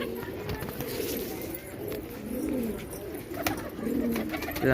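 Several pigeons cooing in low, throaty murmurs that rise and fall continuously at close range, with steady outdoor noise behind them.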